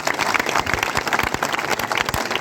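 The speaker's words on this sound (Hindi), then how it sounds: "मैं आप सबके लिए ताली मारता हूँ" A rally crowd gathered for a district council ward 12 candidate in Kaithal breaks into dense, steady applause, many hands clapping loudly together with a few voices mixed in.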